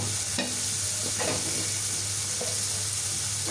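Taro stolons tumble into hot spice paste and frying oil, a steady sizzle running throughout while a spoon stirs with a few soft scrapes and knocks.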